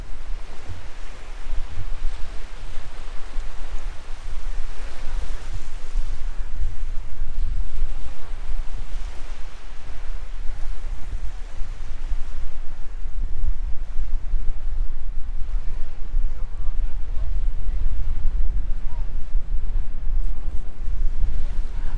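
Sea surf and strong wind on the shore at Skagen, Denmark, where the North Sea and Baltic meet, a constant heavy rush of waves with buffeting wind noise on the microphone, loud and unbroken.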